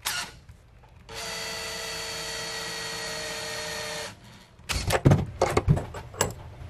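A power drill whirs at a steady pitch for about three seconds, then stops, followed by a burst of clattering and knocking.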